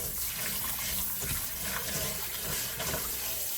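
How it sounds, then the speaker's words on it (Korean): Salted radish and napa cabbage are rinsed under running water, a steady close splashing and gushing with changes in texture as the vegetables are moved about, no voices. "요 한 두 번 정도 헹궈서 물기를 쭉 빼주도록 할게요."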